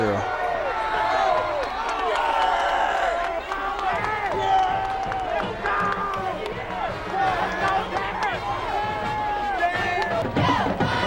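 A crowd in the stands roars and cheers steadily at a high school football game after an interception return for a touchdown, the sustained noise mixed with voices and claps.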